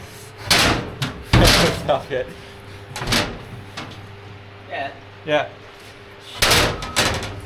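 A car door repeatedly opened and shut near a boat, with several sharp thumps and slams spread across the clip, close and loud, while people talk between them.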